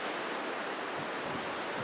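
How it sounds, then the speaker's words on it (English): Strong wind blows steadily across an outdoor camp stove setup, a continuous broadband roar buffeting the microphone for the full length with no let-up and no voices. "the wind is just obnoxious"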